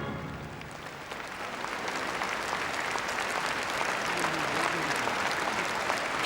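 A large audience at a friendship-night performance in a hall breaks into sustained applause and cheering, a dense wash of clapping that swells slightly toward the end.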